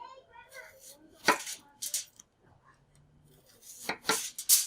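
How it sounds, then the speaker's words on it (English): A knife chops through an onion on a cutting board in a few sharp, close cuts separated by short pauses, with faint speech-like sounds in the background. "I'm going to slice up the onion into a couple large slices"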